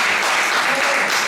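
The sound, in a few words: congregation applauding to acclaim the Lord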